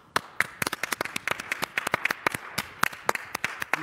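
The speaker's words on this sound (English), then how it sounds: "Please hear our applause." A small group claps for award winners at a conference ceremony, sparse crisp hand claps at an uneven pace, close and fairly quiet, with no talking.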